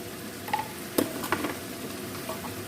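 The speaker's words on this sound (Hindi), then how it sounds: "अभी हम खड़े मसालों को मिक्स कर लेते हैं" Whole spices and ground spice powders frying in a pan for aloo chicken, stirred with a few soft scrapes and light clinks over a low sizzle, close and fairly quiet.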